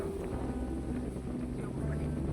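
Strong wind blows at the Chandan-Vandan hill fort in Satara, a steady low roar buffeting the microphone throughout, with a faint voice underneath.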